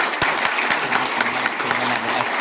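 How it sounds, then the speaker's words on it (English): A crowd applauds the speakers at a talk, giving a steady round of clapping with a few sharp, close individual claps, and a faint voice underneath. "Let's give another round of applause to our speakers."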